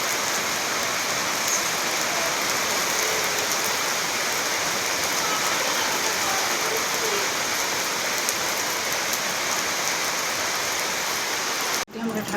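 Steady rain pours down in a home setting, a dense continuous hiss that stays even and fairly loud throughout, ending with a brief bump right at the close.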